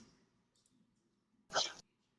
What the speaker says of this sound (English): He doesn't bite. He just barks.